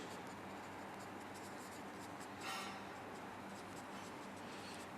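Pen writing on paper during a finance lecture on cash flow statements, a steady faint scratching texture with one brief louder stroke midway, no talking over it.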